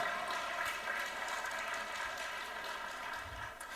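Steady, even applause from an audience at a technology challenge awarding ceremony, a continuous moderate wash of clapping that eases slightly toward the end.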